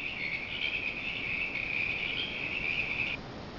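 Chirping insects and frogs from a koi pond app's nature ambience, a dense steady cricket-like trill that runs continuously and then stops abruptly near the end, leaving a faint background hiss.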